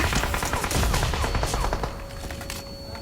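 Rapid gunfire in the mobile battle royale game PUBG Mobile, a dense burst of repeated shots for about two seconds, then quieter scattered fire with a steady electronic tone running underneath.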